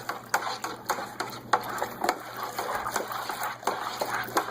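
Additives such as yeast nutrient and pectic enzyme being stirred into mead must in a homebrew bucket, giving a rhythmic series of close sloshing and clinking strokes against a faint steady hum.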